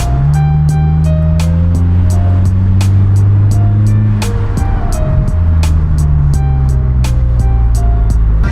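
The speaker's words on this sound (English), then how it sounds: "Figured I'd do this now as the car is warming up" A car engine warms up at idle, a loud, steady low hum with a regular ticking running through it, heard close and without talk.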